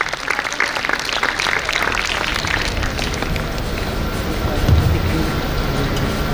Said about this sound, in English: please give a huge round of applause for the Secretary General